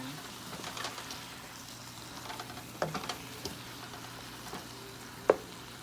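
Shredded saltfish and ackee sizzle quietly in a pan with a soft, steady frying hiss. A few sharp utensil taps and scrapes stand out, one clearly louder near the end.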